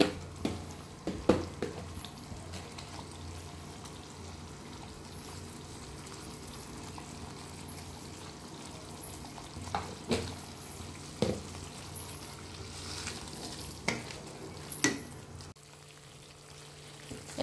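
Bengali masala paste with salt fries in oil in a pan, keeping up a steady low sizzle while a spoon knocks and scrapes against the pan now and then over about seventeen seconds. The sizzle drops quieter near the end.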